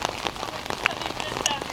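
Rain falls steadily during a storm with flooding at the end of a street in Cypress, Orange County, a dense patter of drops hitting surfaces close by, with no speech heard.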